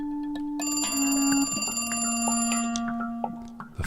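A telephone ringing in The Cat Lady video game, a loud, steady electronic ring with sustained tones and brief pauses, heard alone close up.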